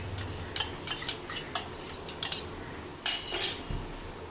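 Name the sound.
stirring fish and potato mixture with chilli and coriander in pan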